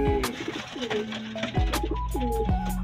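Pet pigeons kept caged on a small home farm give several deep, rolling coos in repeated phrases, close and loud with no talking.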